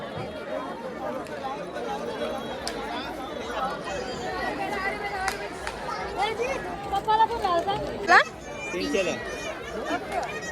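Thick crowd noise at the Mhasa Jatra fair: a constant murmur of many overlapping voices, including children, with occasional clinks and a sharp rising squeal around the middle.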